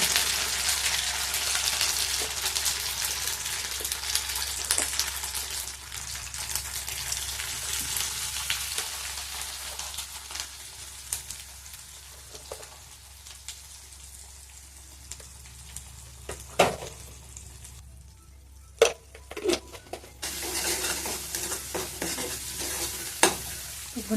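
Masala frying in hot oil in a pan on a home stove while being stirred, a steady close sizzle with scraping spoon strokes that briefly quiets and then returns, with no talking.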